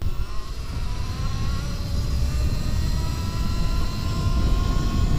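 A Talaria Sting electric motorcycle fitted with supermoto wheels makes a top speed run on a street, giving a steady high electric motor whine over strong low wind rumble, loud and continuous throughout.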